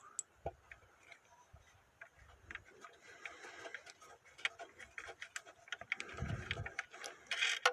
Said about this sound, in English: let's get these bolts out